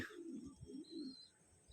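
A satin pigeon coos twice in low, soft, rolling notes, then falls quiet briefly before another faint coo begins.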